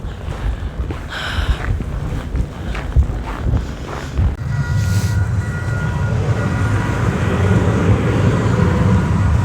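A train standing and moving on a line during heavy snowfall in Calgary, a broad low rumble and rushing wind noise building steadily and staying loud and continuous to the end.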